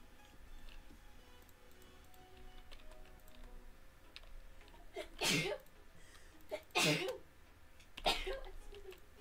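Three sneezes burst out in a quiet room partway through, spaced a second or two apart and fairly loud against a low background with faint ticking and clicks.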